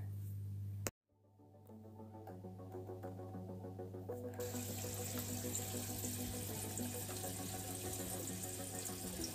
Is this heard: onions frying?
no